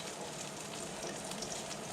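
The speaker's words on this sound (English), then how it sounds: "so we're gonna start sizzling this up." Oil and ingredients sizzle steadily in a pan while a pasta puttanesca sauce cooks, a dense, even frying hiss with no talk over it.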